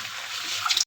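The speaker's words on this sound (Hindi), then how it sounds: "ये चनों वाला पानी ही डाल देंगे इसके अंदर" Chickpea cooking water is poured into a pan of frying kofta chana curry, giving a close, steady hissing splash that ends abruptly.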